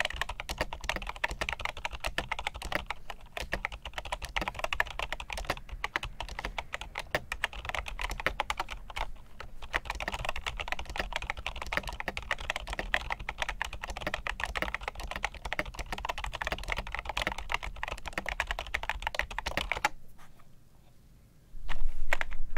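Rapid, continuous typing on a Cherry G86 POS rubber dome keyboard with soft, muffled keystrokes, close and steady, before it stops abruptly near the end.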